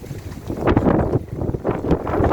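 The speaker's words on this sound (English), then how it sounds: "Yeah, it is windy." Strong wind blows outdoors in a garden among cordyline plants, buffeting the microphone with loud, gusty rumbling that rises and falls throughout.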